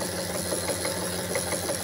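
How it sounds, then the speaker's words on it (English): A running Emerald Class zero-cogging generator gives off a steady mechanical drive hum with a faint rattle of its chain. The tone is loud and continuous, with no talking over it. "That noise you hear is a chain."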